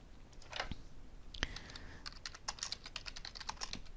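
Keystrokes on a computer keyboard while entering text into software, a scattered run of light clicks of varying spacing, close and fairly quiet with no talking.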